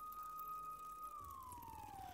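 A police siren in the video game Newspaper Day holds a steady wailing tone, then slides gradually downward as it passes, faint and distant.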